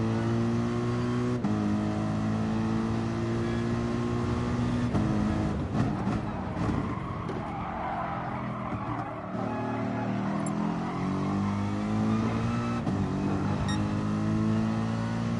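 Racing cars out on track during a qualifying session, with a close engine droning and shifting pitch as it revs and changes gear, plus other cars briefly passing, continuous and loud.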